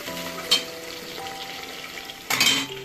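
Ginger garlic paste sizzles with onions in a pan, a steady close frying hiss. Two brief bursts of stirring or utensil scraping louden it.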